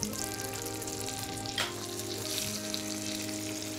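Chicken leg and thigh pieces sear in olive oil and butter with a steady, even sizzle and faint crackle, fairly quiet and with no voices.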